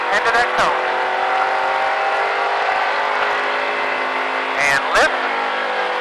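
A race car at a driving experience accelerates hard along the track, its engine a loud, sustained whine that climbs steadily in pitch, with brief bursts of coaching talk at the start and near the end.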